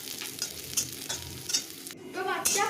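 Garlic and chopped chilli frying in oil while being stirred for a fenugreek greens dish, close crackling sizzle with repeated scraping strokes, growing louder toward the end.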